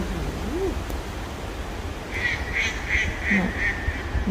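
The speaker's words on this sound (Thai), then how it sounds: "เป็ดน้อย" Ducks on a pond in a large forest on a cool, breezy day give a rapid run of about five quacks at moderate distance, after an earlier lone call, over a steady low wind rumble.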